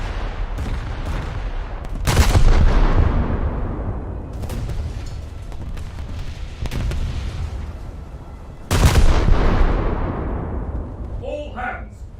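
Warship guns in a naval video game fire as heavy booming salvos, two of them especially loud with long rumbling decays, over ongoing battle noise. Voices talk between the blasts.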